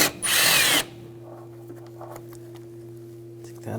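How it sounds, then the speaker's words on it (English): A power tool with a 10mm socket spins out an engine bolt on a 2000-2006 BMW X5 3.0L inline-six during alternator replacement, giving one loud, short whirring burst followed by a steady low hum and faint handling clatter. "We're going to take these two bolts out,"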